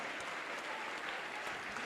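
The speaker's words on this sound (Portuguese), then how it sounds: "Vamos aplaudir mais, igreja." A church congregation applauding, steady dense clapping that fills the room without a break, with no voices standing out.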